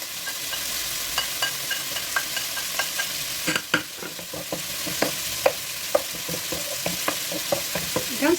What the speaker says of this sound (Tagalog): Brown saglit, then mix na natin sa karne.